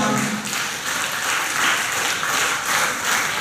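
An audience at a school award ceremony applauds students with a dense, sustained round of clapping that stays loud and even throughout, echoing in a hall.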